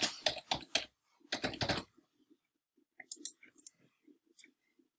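Rapid keystrokes on a computer keyboard as an email address and password are entered: a dense, close burst of clicking, then sparser, lighter taps after a pause.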